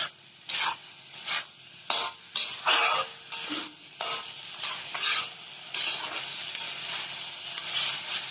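Cumin powder, coriander powder and red chilli powder fry in a pan for a black-eyed pea dish, with a steady sizzle and a run of rhythmic scraping stirs, close by and without speech.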